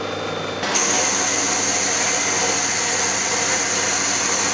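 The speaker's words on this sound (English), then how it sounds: "We'll try this tool on a facing cut. This lathe has got power feed on it." A Myford lathe makes a facing cut on straight steel bar under power feed with a small tipped tool, a steady loud whirring motor drone with a bright cutting whine after a sudden start.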